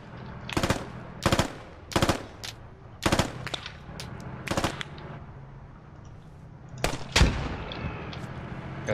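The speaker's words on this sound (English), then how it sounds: "I can fucking hear you shooting." Gunfire in a squad-based military shooter video game with a Russian grenadier: about eight sharp, loud bursts of automatic fire, close and unevenly spaced, with quieter battlefield noise between them.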